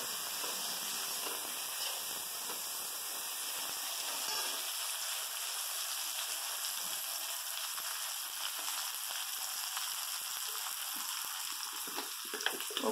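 Onions and green chillies for upma fry in hot oil with a steady, dense hiss of sizzling that carries on throughout, close and fairly loud, with faint crackles scattered through it.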